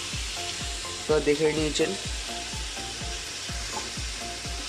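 Vegetables for a bhindi char masala stirred as they fry in a pan, a steady sizzle under regular scraping strokes of the spatula. A voice speaks briefly in the middle.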